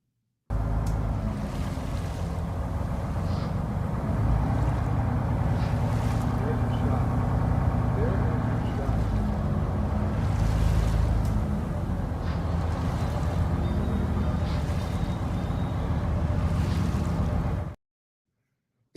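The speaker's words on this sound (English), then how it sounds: "I went aboard the oldest cruise ship still sailing around the world." The Astoria, the oldest cruise ship still sailing, built in 1955, under way at sea, with a steady broadband rush of wind and water against the hull and a low engine drone continuing unbroken throughout.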